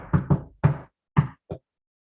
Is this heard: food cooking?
no